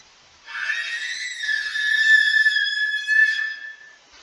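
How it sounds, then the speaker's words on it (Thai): A drawn-out shrill scream in the horror game Don't Go, a thin wavering high cry that swells and fades over a few seconds against near silence. "เหมือนได้ยินเสียงอยู่ เสียงกรีดร้อง อะไรสักอย่าง"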